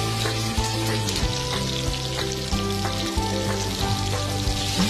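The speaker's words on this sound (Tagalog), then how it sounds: "pwede na tayong mag-pan fry" Cabbage rolls dipped in egg and all-purpose flour pan-fry in hot oil, giving a loud, dense, continuous sizzle with small pops and crackles and no voices.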